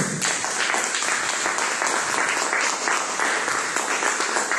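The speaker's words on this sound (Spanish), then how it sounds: "Palmas, compañeros." A crowd of teachers at a union forum in Lima applauds in a loud, sustained roar of clapping, dense and unbroken from start to finish.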